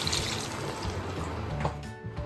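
Leftover water from a mixer jar of ground masala poured into a pan for kadai gravy, a short close splashing pour with a liquid gurgle.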